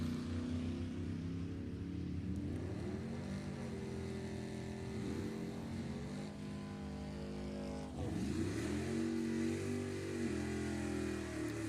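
Drag racing cars, a Volvo wagon and a Camaro, run at an NHRA E.T. bracket event, their engines droning and rising steadily at a distance under a faint public-address commentary.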